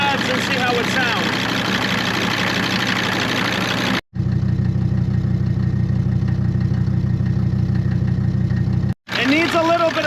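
An old Mercedes 190 turbo diesel, abandoned for years, idles steadily with a low, even clatter, loud and close, cut by two brief dropouts; busier sections at the start and end carry other sounds.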